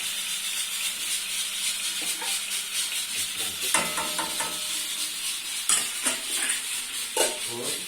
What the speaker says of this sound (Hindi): अब फ्लेम तेज खोल देते हैं और सवैयों को पकने देंगे थोड़ी देर